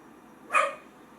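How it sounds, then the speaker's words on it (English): A dog gives a single short bark in the background, faint and distant over quiet room tone. "I do have a dog. He's in the background."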